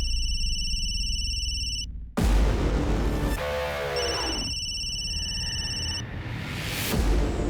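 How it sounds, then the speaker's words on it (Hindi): A telephone rings in a Crime Patrol Satark crime drama scene, an electronic tone repeating in bursts with pauses between. Loud thumps and rumbling sounds break in over it. "उस दिन भी फ़ोन बहुत बज रहा था।"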